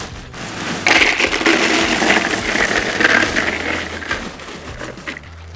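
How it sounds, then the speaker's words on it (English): Ice from a large bag pours into a Yeti Tundra cooler in a loud, steady clattering rush of cubes, close up and with no voices, tapering off near the end. "we're just gonna fill it with ice"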